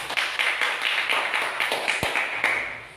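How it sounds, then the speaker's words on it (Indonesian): Classroom clapping from a group of students, a steady run of brisk, evenly spaced claps filling about three seconds, fairly close and moderately loud. "Oke, tepuk tangan."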